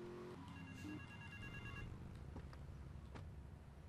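A telephone rings in the GTA Vice City video game, a short electronic ring tone of a few beeps up front, faint under the game's steady background noise.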